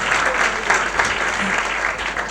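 Enthusiastic applause from an audience at a youth festival drama performance, a thick continuous roar of clapping hands throughout.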